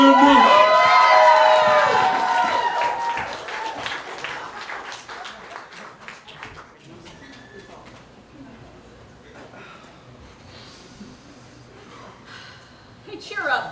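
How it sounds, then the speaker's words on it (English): Cheering and applause from a variety show crowd welcoming a performer, loud at first with voices over it, then dying down into scattered claps and murmurs before a brief burst at the end. "Give them a nice, hearty welcome to Dad Skeleton!"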